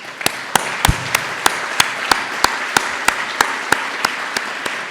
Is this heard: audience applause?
yes